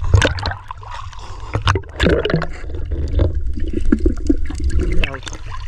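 Sea waves slap and splash against a small fishing boat in gusty wind, a steady broadband wash with irregular sharper splashes throughout, fairly loud and close, with someone talking over it at times.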